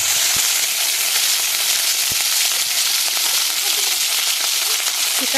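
Dry red chillies, bay leaves and nigella seeds frying in hot oil, a loud, dense, continuous sizzle with faint crackles throughout.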